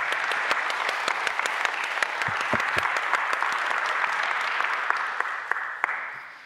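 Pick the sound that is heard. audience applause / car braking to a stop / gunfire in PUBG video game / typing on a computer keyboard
audience applause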